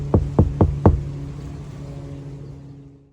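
Four knocks on a Toyota Tacoma door panel lined with Dynamat sound deadening, evenly spaced and close, each a short dull thud that dies away quickly over a steady low background hum.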